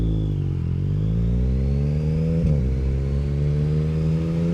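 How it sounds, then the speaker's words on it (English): A motorcycle pulls hard on a motorway, its engine note rising steadily in a loud, continuous harmonic drone that climbs in pitch through the gear, with a brief dip partway as it keeps accelerating under strong wind noise. "we'll do a bit of a pull on the motorway here and see what the acceleration feels like"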